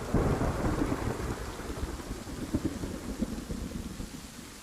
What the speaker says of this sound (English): A severe thunderstorm would roll through that night